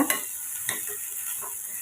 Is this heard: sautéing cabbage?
yes